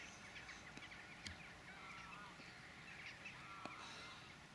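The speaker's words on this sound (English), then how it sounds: "a lot of noisy geese." A distant flock of geese honks faintly and irregularly over a steady outdoor hiss on a mid-November fishing trip.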